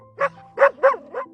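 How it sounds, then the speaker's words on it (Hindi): A stray street dog barks four times in quick succession, clear and fairly close, over a low background hum. "अब वो गली का देसी कुत्ता भौंकेगा"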